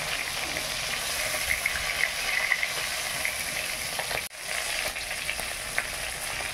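Bata fish frying in a pan in a Bengali kitchen, a loud steady crackling sizzle of hot oil heard up close with a few stirring sounds and one brief dip partway through.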